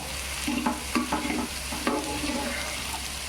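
Sliced onions and a tomato frying in oil in a pan for mushroom green bhaji, with the onion browning and the oil separating; a steady close sizzle runs throughout, broken by several scraping stir strokes.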